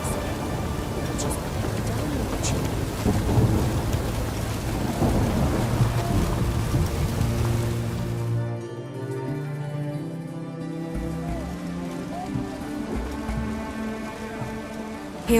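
Rain falls with deep thunder rumbles during a storm in The Witcher 3. The downpour hisses heavily over low music, then drops away partway through, leaving quieter ambience and music.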